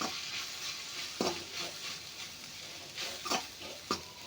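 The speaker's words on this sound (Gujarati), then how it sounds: "હવે આપણે આની અંદર આ સિંગદાણાનો પાવડર બનાવ્યો છે તે લઈ લઈશું અને હવે આપણે આને સોતે કરી લઈશું" Peanut powder sizzles and is stirred in a pan for sabudana khichdi, a soft steady frying hiss broken by a few scraping spoon strokes, close and fairly quiet.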